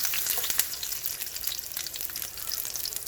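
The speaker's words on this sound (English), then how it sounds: "add a quarter of an onion slice. And let it saute." An onion slice sautés in a hot pan with a close, steady crackling sizzle and scattered pops, alone with no voices.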